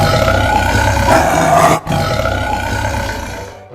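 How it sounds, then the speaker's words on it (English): A tiger gives a loud, sustained roar lasting several seconds, with a brief break midway before the rumbling continues and fades out, heard up close and alone. "tiger"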